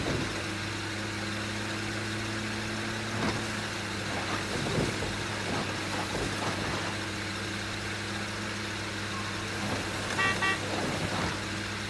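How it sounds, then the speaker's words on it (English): Car horn tooting in State of Decay 2, a few brief honks near the end over a steady idling engine hum that runs throughout. "Just honking to my neighbors."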